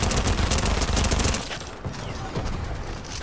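Rapid SMG fire in Fortnite, a dense loud burst of shots for about a second and a half that then drops to quieter scattered noise.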